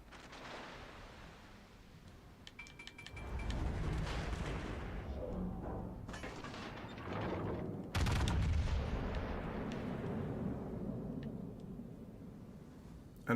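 Heavy battleship guns of a Musashi or Yamato firing in World of Warships: Legends: deep booming salvos build into a sustained rumble with a sharp blast partway through, over a busy distant naval battle.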